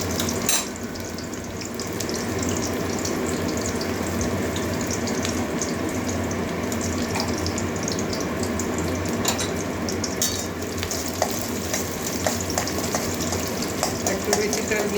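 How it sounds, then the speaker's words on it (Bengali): Chopped onion frying lightly in a fair amount of oil in a pan, a steady sizzle with occasional clinks and stirring scrapes running throughout. "পেঁয়াজটা হালকা একটু ভেজে নেব, কাঁচা গন্ধ যাওয়া পর্যন্ত।"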